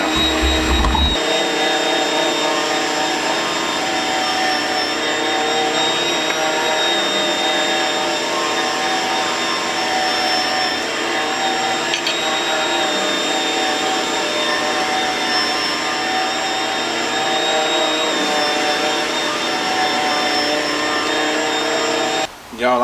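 Affordable electric meat slicer cutting pork belly into bacon strips, a steady continuous motor whine with a bright humming drone that runs unbroken for the whole stretch, fairly loud and close, with no talking.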